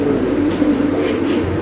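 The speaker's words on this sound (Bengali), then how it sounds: "মাদি দেখলেই ডাকে ভাই" A male Spanish pigeon coos close by, a low continuous throaty rumble filling the short moment without talk.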